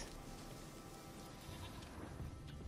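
A goat bleating in The Witcher 3, a faint, breathy cry heard at a distance over soft ambient game noise, brief and quiet.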